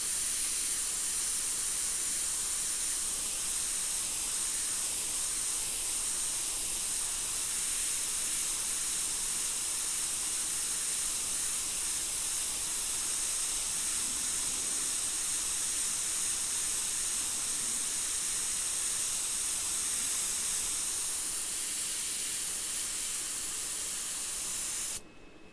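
An airbrush sprays paint in a steady, soft hiss that runs for about twenty-five seconds without a break, then cuts off abruptly at the end.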